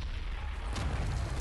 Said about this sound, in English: I wonder why the hell he was taking so long to throw the damn grenade